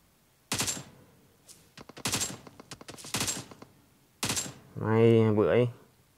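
Gunfire from the mobile battle royale game PUBG Mobile comes in several sharp bursts of rapid shots separated by short pauses, loud and close, followed by a brief voice-like sound at the end.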